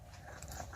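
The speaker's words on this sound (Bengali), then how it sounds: "আমি সিলে বেটে নিচ্ছি" Tomato sauce paste ground by hand on a sil grinding stone, a close, brief gritty crunching and scraping with small irregular bursts.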